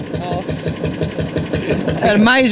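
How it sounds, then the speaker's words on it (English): A single-piston vintage tractor engine with a 10.5-inch stroke idles close by at a classic truck and machinery show, thumping in a steady, rapid beat while voices rise over it near the end. "What an amazing thing to think it's a single piston, all that capacity, a mountain of torque, and it just does the job so well."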